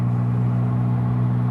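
Porsche Spyder RS engine on the move, a loud, steady low drone with strong rumbling tones that holds evenly throughout, close and dominant with no voices.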